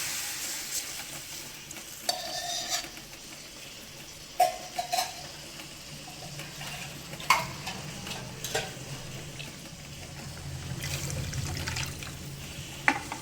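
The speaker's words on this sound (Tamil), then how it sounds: "இந்த கரைச்சி வச்சுருக்க குழம்பு வச்சு இதில் ஊற்றிடலாம்" Lentil-dumpling curry liquid pours and trickles into a hot pan, sizzling softly, with occasional clinks and stirring scrapes.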